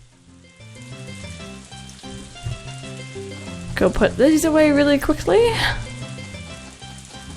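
Steady rain patters and hisses throughout in the video game Harvest Moon: A Wonderful Life, with a person speaking briefly over it.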